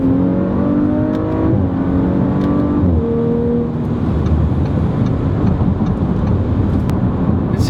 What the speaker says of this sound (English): I think the engine sounds great. It's one of the best engines ever.